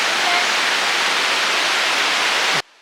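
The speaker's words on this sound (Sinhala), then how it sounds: "සංචාරකයන්ට වැඩිම ආකර්ෂණය දිනාගත්තු දියඇල්ල තමයි නලගන ඇල්ල කියන්නේ" Nalagana Ella waterfall at Bulathkohupitiya, Sri Lanka, scattering down over rock, makes a dense, steady roar of falling water that fills the scene unbroken until it cuts off abruptly near the end.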